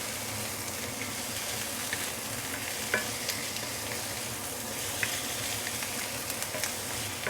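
Steady loud sizzling of catfish stir-frying in a hot pan, with occasional scraping clicks of stirring throughout.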